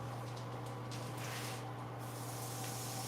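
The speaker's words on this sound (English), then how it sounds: "Hear that sizzle? There's our first sizzle." A faint, steady hiss of frying thick hickory-smoked bacon crackles softly in the pan, with a low constant hum beneath and no voices.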